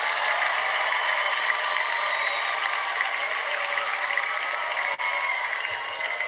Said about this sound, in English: Let's give him a cheer, guys.